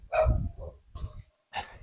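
A dog lets out three short barks outdoors, fairly close but moderately quiet, separated by brief pauses.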